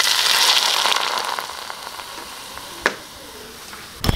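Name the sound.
hot oil sizzling poured over ginger, salt and scallions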